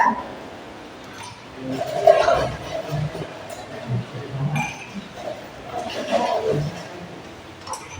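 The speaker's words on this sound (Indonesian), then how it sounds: "terakhir kita kasih es batu. Es batu ya." Ice cubes dropped into glasses for iced tea, giving a few bright clinks in two clusters over a quiet room, with a voice talking around them.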